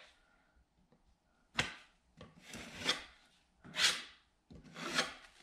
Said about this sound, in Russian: Также шпаклюем вот эти сучки в этом месте, вместе скоса,